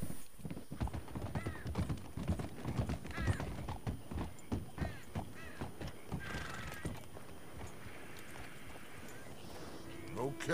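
Horse hooves clip-clopping in the video game Red Dead Redemption II, a steady close rhythm of hoofbeats with a whinny, under characters' talk that fades later.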